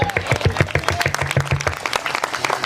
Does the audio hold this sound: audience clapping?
yes